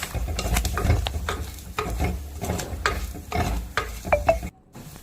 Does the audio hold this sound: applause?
no